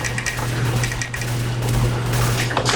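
Rapid Counter-Strike gunfire during a flick shot, dense crackling bursts of shots in quick succession under a steady game hum, loud and continuous.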